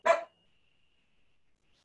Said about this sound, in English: Wow, that was a perfectly timed bark.